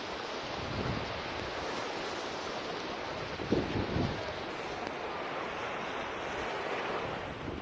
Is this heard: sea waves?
yes